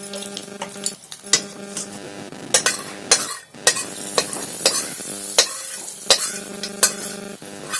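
Cumin seeds, dried chili and asafoetida temper in hot oil in a wok, giving a steady close sizzle broken by repeated sharp clinks of a metal spoon stirring against the pan.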